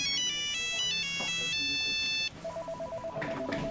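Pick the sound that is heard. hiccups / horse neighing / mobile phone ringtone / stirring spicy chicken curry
mobile phone ringtone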